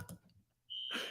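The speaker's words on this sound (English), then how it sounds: "That's the fire alarm." A fire alarm in a neighbouring apartment sounds as a steady high tone that starts partway through after a few faint knocks, muffled and coming through the walls.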